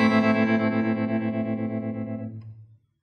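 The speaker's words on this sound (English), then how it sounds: "Here's my tremolo setting." An electric guitar chord rings out through a very fast, choppy tremolo effect, the pulsing strum sustaining for over two seconds before cutting off into silence.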